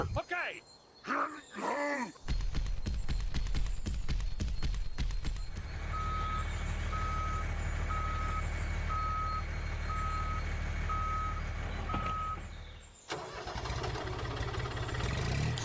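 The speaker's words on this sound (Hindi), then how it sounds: "अब मैं अपना ट्रैक्टर चला के और छोटी ट्राली को पीछे लोड करूंगा" A small homemade toy tractor built with bricks hums along, its reversing alarm beeping in an even, steady series above the motor drone. Someone talks briefly before the engine noise starts.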